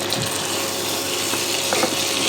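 A little water is poured into sizzling chicken masala in a pan, a continuous close trickle and hiss with a few faint clinks, no voices.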